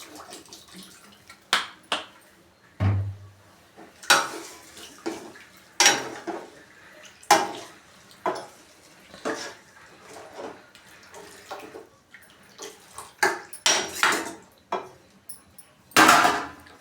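Water is poured into a pot of chicken garlic sambar in a home kitchen, arriving in a series of short splashing bursts with metallic clinks of the vessel between pours.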